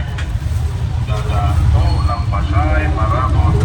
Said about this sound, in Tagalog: Nasa tricycle. Umulan pa ng malakas.